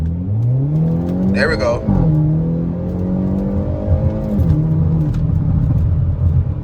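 Turbocharged Hyundai Elantra N engine revving and accelerating up through the gears from inside the car, loud and close, with pitch climbs and shift dips, while someone briefly speaks over it.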